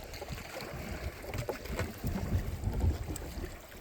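A kayak is paddled on Lake Vänern, Sweden's largest lake, with soft, close splashing strokes in an irregular rhythm under steady wind and water noise.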